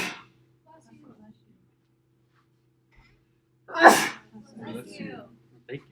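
One sharp, loud sneeze bursts out in a quiet lecture room, followed by brief murmured speech.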